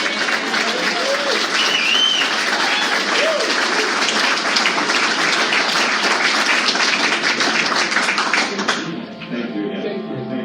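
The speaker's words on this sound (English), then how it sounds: "Let's give another round of applause." Sustained, loud applause fills the room from a large audience, a dense continuous wash of clapping with a few voices calling out, before it drops off sharply near the end.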